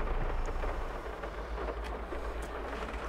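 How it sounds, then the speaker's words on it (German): Steady rain pours down in the Landwirtschafts-Simulator 22 farming game, a dense, constant hiss with a low rumble beneath, loud and unbroken throughout. "Aber der Regen ist so laut."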